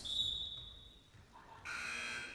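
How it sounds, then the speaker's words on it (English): A basketball game buzzer sounds in a gym, a bright electronic tone heard first faintly, then a louder, harsher buzz kicks in and holds at the end, with no talk over it. "there's the buzzer"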